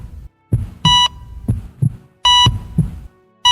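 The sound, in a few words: heart monitor beeping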